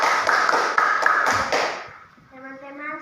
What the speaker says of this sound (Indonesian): Tepuk tangan untuk Rita.